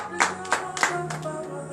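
A congregation claps during a French-language morning prayer service, a few distinct sharp claps spaced roughly a third of a second apart over sustained tonal background, moderately quiet.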